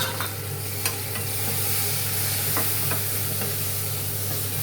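Chopped tomatoes go into a pan of frying onions and get stirred, giving a steady, loud sizzle with a few soft scraping clicks and no talking.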